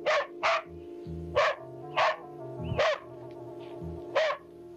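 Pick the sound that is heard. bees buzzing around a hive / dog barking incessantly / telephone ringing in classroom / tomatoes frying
dog barking incessantly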